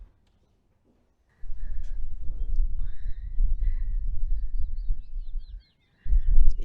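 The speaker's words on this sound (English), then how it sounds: "If you can hear the birds." Birds call and chirp outdoors near a main road on the way to a campsite, a few brief high chirps and trills scattered over steady low rumble and handling noise, faint and intermittent rather than full song.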